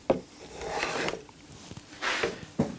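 A spokeshave shaves wood on an electric guitar neck in a few close rasping strokes, each a soft scraping sweep separated by brief quiet gaps.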